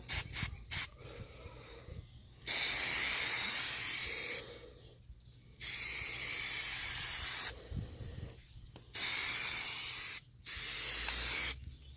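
Aerosol can of Plasti Dip hissing in several bursts of a couple of seconds each, with short pauses and quiet rustling between sprays.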